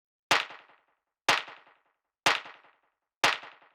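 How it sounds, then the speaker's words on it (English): Four evenly spaced hits of a deep, mid-range clap sample in an organic, textured electronic track, each a sharp bright crack with a short decaying tail, played alone with silence between. "Next thing we got here is the clap,"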